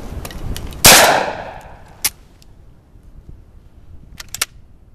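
A Benelli M4 semi-automatic shotgun fires one Aguila 12 gauge mini shell with a single sharp, loud blast that rings out and decays, followed by scattered metallic clicks and clacks of handling the action.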